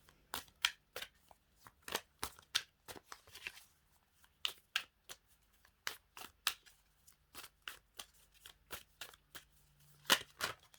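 Tarot cards shuffled by hand in a steady series of crisp riffling bursts over about ten seconds, close and fairly quiet, with faint talking in between.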